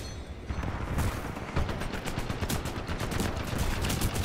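Gunfire in Titanfall 2, rapid repeated shots cracking in a dense steady stream over game background noise, close and loud, with no talk.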